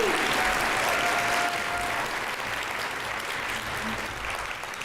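A large conference audience at an opening plenary applauds the performers Banda and Coro, producing a loud, dense, sustained wash of clapping that tapers slightly toward the end.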